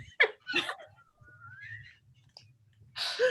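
A person whistles a soft rising glide, faint and brief, with short breathy mouth sounds and voices around it.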